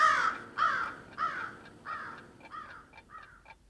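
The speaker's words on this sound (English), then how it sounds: "Is it time for the crow to caw?" A crow caws repeatedly, about eight harsh calls in a steady rhythm, clear and fairly close with no other sounds around them.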